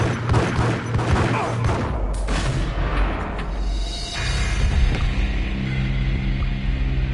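Gunfire in the Max Payne video game: bursts of loud shots and booming blasts in quick succession, layered with rumbling low-end impacts and a lingering hum, no talking over it.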